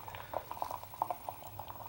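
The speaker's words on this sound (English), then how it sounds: "we're boiling now, so I'm going to turn this stove down." Steady bubbling of water at a boil in a pot on a stove, with irregular pops and blips over a low rumble, close and moderately quiet.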